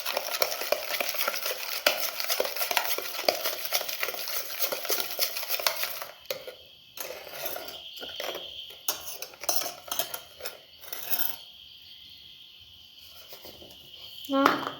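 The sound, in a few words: stirring cake batter in a bowl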